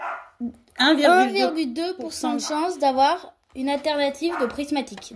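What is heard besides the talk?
dog barking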